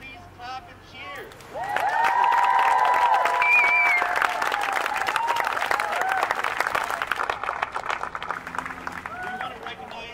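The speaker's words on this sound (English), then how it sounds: "So if you like the art, please clap and cheer." A community crowd claps and cheers for a new town mural in Eagle Point, a loud, sustained burst of applause and whoops that swells and then slowly thins out.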